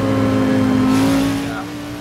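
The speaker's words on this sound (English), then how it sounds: "Can't hear the helicopter over that V10. I was going to say that, it's loud as hell." A V10 engine in a Hot Wheels Mustang build roars at sustained high revs in a Forza Motorsport 6 race, a loud steady drone that eases off slightly toward the end, with voices talking over it.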